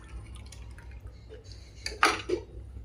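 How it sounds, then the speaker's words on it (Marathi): Dahi kadhi thickened with besan coming to a boil gives off a few soft plops and bubbling pops over a low background hum, faint at first, then a louder cluster near the end. "मस्त आता ह्याला थोडीशी आपण उकळी येऊ देऊ"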